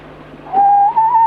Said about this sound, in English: Want a whistle? A whistle? Give it a try.